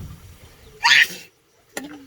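A person sneezes once while cooking a spicy stir-fry of vegetables with pork in a rice-field hut, a sudden loud burst standing alone, followed by a brief quieter click.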